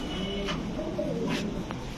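Teddy pigeons at a pigeon farm coo softly in low, repeated calls over a steady background hum, with a few brief sharper noises nearby.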